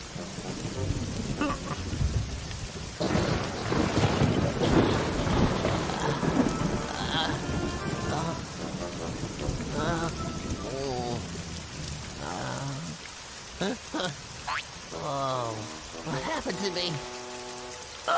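Steady heavy rain with rolling thunder in the Boonie Bears animated cartoon, a continuous downpour with rumbles that continue while characters speak over it.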